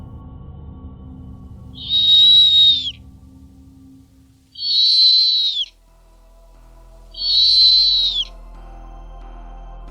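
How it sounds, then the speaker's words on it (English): Three separate, evenly spaced calls from a snowy owl, each a clear whistle-like cry lasting about a second, loud and close. "These are just a couple of the snowy owl's vocalizations."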